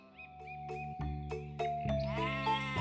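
A goat from a fairy tale bleats in a quick series of wavering calls over a steady musical background, growing fuller and louder toward the end.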